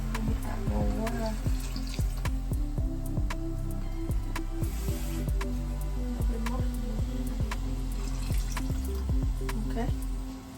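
Water poured into a cooking pot while food sizzles, a steady wash of liquid and frying hiss with faint clinks and background noise, moderately quiet and continuous.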